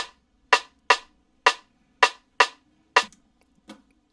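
Sharp, dry rim shot hits, seven in a loose rhythm with short decays, followed by a fainter final tap.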